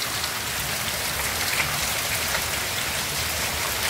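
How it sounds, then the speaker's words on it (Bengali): Heavy rain pours down steadily, heard from a doorway as a dense, unbroken hiss of drops drumming on surfaces, loud and even throughout. "এমন প্রচণ্ড পরিমাণে বৃষ্টি।"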